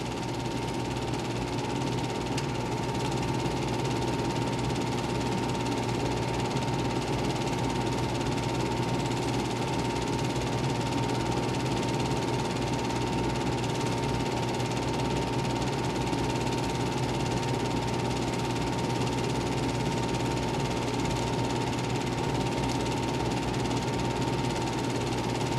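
Cobra race car engine at the Daytona runoffs, a steady mid-pitched drone with a knocking, vibrating edge that holds at an even, fairly distant level throughout with no talk.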